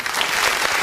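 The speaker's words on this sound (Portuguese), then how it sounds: "Vamos dar uma salva de palmas bem forte para Jesus?" Church congregation applauding during a worship service, a dense burst of clapping filling the whole short moment at steady loudness.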